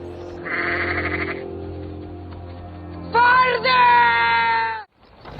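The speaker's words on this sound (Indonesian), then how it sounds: "ibu si domba terus berlari mengikuti mereka dan memanggilnya" In a scene from the film Lamb (2021), a mother sheep calls for her lamb with two loud, drawn-out bleats close by, with a voice speaking over the sound.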